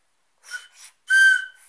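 A small child blows a toy pipe, making two short soft whistle tones and then a longer, louder, steady shrill whistle close by, with no talking over it.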